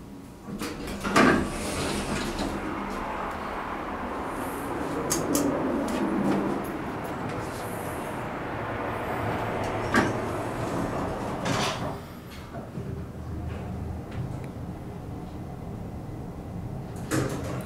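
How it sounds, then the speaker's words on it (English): An all-original vintage US Elevator car at a Four Points hotel near the Tucson airport rumbles as it runs, with sliding door clunks, thumps and rattles over a steady mechanical hum. "This will be another elevator at the 4 Points by the Tucson airport."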